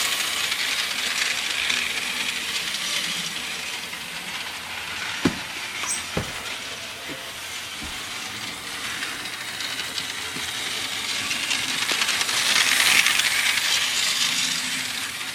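A model train runs on a flexing track around a Christmas tree, a constant whirring, hissy mechanical rumble with a few sharp clicks that swells as the train comes close.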